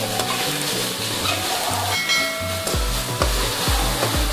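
Chicken pieces go into a pan of lightly fried garlic paste and sizzle loudly, with stirring scrapes and spoon clatter over a steady frying hiss.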